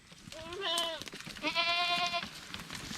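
A goat bleating twice in close succession, two loud, wavering nasal calls separated by a short pause.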